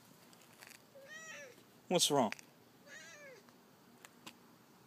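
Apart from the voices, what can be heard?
cat meowing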